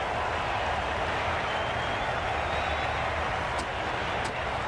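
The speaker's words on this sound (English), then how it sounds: "They will receive now the warmest of receptions from this crowd for a supreme display of batting." Steady, dense crowd applause in the video game Cricket 22 during an India versus South Africa one-day match, a continuous wash of clapping held at an even level throughout with no talking.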